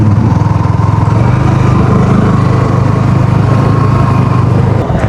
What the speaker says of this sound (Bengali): বিচের পাড় দিয়ে বাইক চালাচ্ছি।